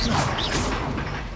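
A Bombarda blasting spell cast in the Hogwarts Legacy video game, a single loud whooshing burst with a crashing edge that decays quickly over about a second.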